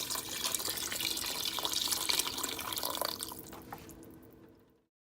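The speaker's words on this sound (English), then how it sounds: "I'm going to go ahead and introduce some water as well" Water pours into a pot of chicken soup, a steady splashing, gurgling stream close by that thins into a few drips before cutting to silence.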